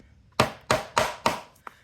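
A hammer drives nails while turkey earrings are being made, landing four sharp, evenly spaced knocks close by, then a lighter fifth tap, in a quiet room with no voices.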